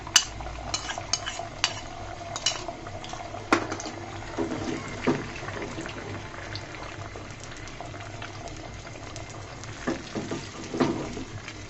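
Egg poured into a pan of simmering pumpkin curry, bubbling and sizzling steadily with scattered soft clicks and stirring scrapes throughout, close and moderately quiet.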